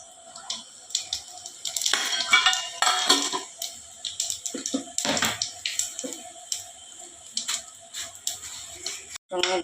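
Whole cumin seeds dropped into hot oil in a pan, giving irregular close sizzling and crackling bursts with clinks of utensils against the pan, fairly loud and busy throughout.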